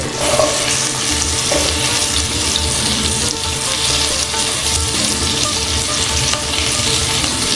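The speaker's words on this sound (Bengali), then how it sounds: "মিডিয়াম ফ্লেমে ঝিঙে একটু সাঁতলে নেব।" Ridge gourd pieces fry in hot oil with turmeric and tempering spices over medium flame, a loud, dense, continuous sizzle with soft stirring close by.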